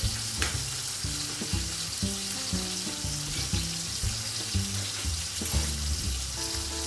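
Five-spice fries in a hot pan, crackling and sizzling continuously with scattered pops and light scraping as it is stirred, close and even throughout with no talk.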